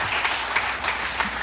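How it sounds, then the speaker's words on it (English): Audience applause at a church Fathers in Faith gathering, steady clapping from a crowd filling the whole moment without pause, fairly loud and even. "And a great applause."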